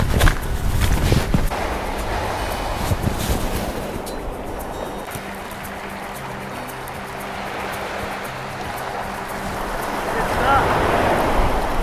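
Surf washing onto Scabacombe Sands beach, a steady broad roar of breaking waves with gusts of wind buffeting the microphone and occasional voices nearby.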